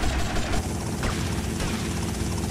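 Helicopter in the video game GTA Vice City, a loud close rotor thump and turbine roar churning continuously for a couple of seconds.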